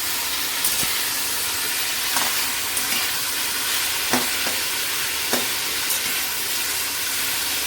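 Drumstick pieces and vegetables sauté in oil for a Bengali fish curry, producing a steady broad sizzle with occasional light clicks of a spatula against the pan.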